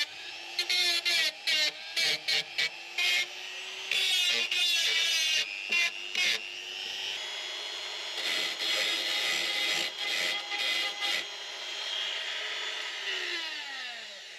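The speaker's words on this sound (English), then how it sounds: "Well, I think that's about as good as it's going to get with the grinding." Dremel rotary tool grinding rust on a van body, a loud high whine that runs in repeated short bursts and longer steady passes, pitch dipping under load and winding down at the end.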